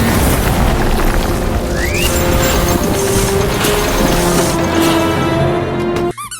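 A big cartoon explosion from a remote-controlled explodey potion in Rick & Morty, a loud sustained roaring boom with a rising whistle in the middle, which cuts off abruptly near the end.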